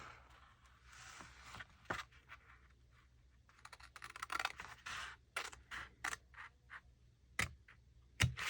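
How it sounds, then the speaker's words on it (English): Scissors cut through large paper scraps along a folded crease for a file folder folio, giving a run of crisp, close snips and scratchy rustles that come in irregular bursts with quiet gaps between them. "We're going to cut along this fold line here."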